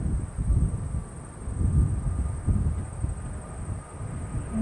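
An airplane departing an airport sends a low, rumbling roar that swells and fades in waves across a distant, wind-buffeted background, with a thin steady whine above it.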